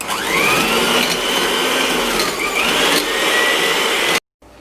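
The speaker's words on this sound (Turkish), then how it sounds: "Ve bunu da tamamen eriyene kadar önce mikserim ile çırpacağım arkadaşlar." An electric hand mixer whirs steadily as it whisks melted butter with sugar in a bowl, a loud continuous motor drone with shifting pitch sweeps as the beaters move, then cutting off abruptly near the end.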